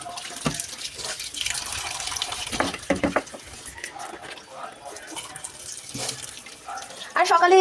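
Coriander leaves rinsed under a running kitchen tap, a steady broadband splash of water with brief sharper bursts and a louder gush near the end.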